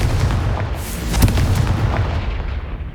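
A Confringo fire spell explodes in Hogwarts Legacy, a dense booming blast with crackling bursts that holds loud for about three seconds before tapering.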